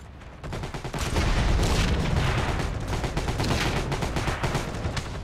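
A mounted machine gun rattles from a window in the World War II shooter Heroes & Generals, a loud, rapid stream of bursts that starts after a brief lull and keeps hammering steadily.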